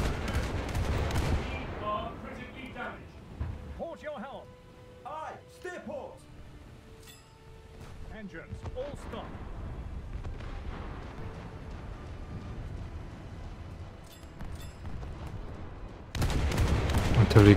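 Naval gun fire from a British coastal-forces boat game in arcade mode, with loud booming blasts at the opening and close and sporadic sharper shots and rumble in between, while voices talk over it.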